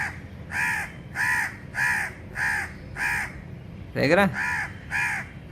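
A crow perched close by gives a steady series of loud, evenly spaced caws, about nine in all, while someone speaks briefly under one of the calls.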